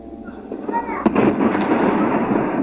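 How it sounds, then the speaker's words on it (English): Rapid crackling pops and bangs of gunfire echo in the distance, a dense burst of shots over a noisy outdoor background. "on the ground, locals caught the sound of gunfire."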